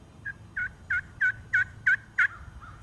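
Seven soft, evenly spaced yelps from a hunting call imitating a turkey hen in Tennessee woods, close and clear over a quiet background.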